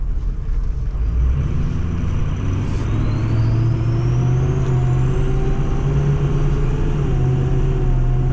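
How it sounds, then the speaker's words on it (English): Turbo diesel engine of a 2003 Ford F350 Super Duty truck idling close by, a heavy steady low rumble with a rising high turbo whine spooling up and holding, no talk. "I want to hear the turbo, and that's it."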